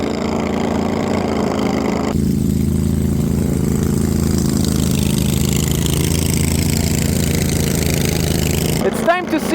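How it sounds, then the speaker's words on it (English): A 20 HP engine on a homemade four-wheeled mower runs steadily at half throttle, a close, loud, even drone with a low hum, ending in a brief clatter. "The engine is not even full throttle as well. It's half throttle right now."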